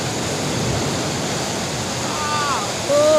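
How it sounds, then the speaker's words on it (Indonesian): Ocean surf at Banyu Tibo beach in Pacitan, a steady broadband wash of breaking waves, close and fairly loud, with a voice briefly speaking near the end. "Ombaknya lumayan gede, nyampe ke sana juga."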